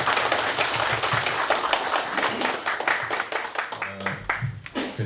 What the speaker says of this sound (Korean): 우리 최영주 선생님께 박수 한번 부탁드리겠습니다